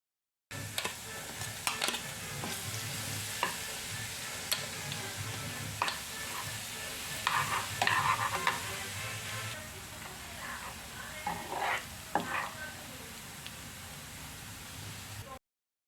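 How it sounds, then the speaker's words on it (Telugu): Garlic paste fried slowly in hot oil in a kadai for mushroom pickle, a soft steady sizzle broken by intermittent clicks and light utensil scrapes, faint and close. "వెల్లుల్లి పేస్ట్ అది ఈ వేడి ఆయిల్లో వేసేసి మనం మెల్లగా ఫ్రై చేయాలి"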